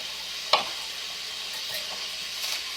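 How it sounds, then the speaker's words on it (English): Cold butter melts in a pot of Brussels sprouts Alfredo sauce, giving a steady soft sizzle and hiss with a sharp clink near the start and faint stirring scrapes. "now we're going to add 4 tablespoons of cold butter"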